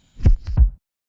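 Two layered kick drum samples in an electronic track hit in quick succession: a punchy low double thump with a brief click-like middle hit, heard once alone, dry and up close.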